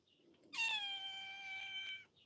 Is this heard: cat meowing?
yes